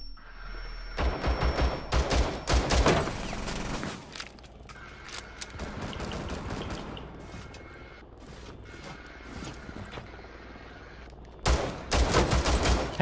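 Gunfire rings out in Rainbow Six Siege, with loud bursts of sharp shots in clusters near the start and again at the end, separated by quieter stretches of game ambience and mechanical clatter.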